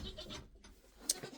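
A goat bleats once, faint and brief, over a soft, rough background.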